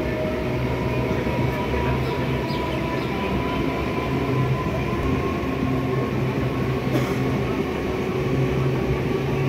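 A local commuter train in West Bengal heading toward Sealdah rumbles steadily from inside the carriage, with a continuous loud drone, rail hum and faint wheel squeals throughout, no voices.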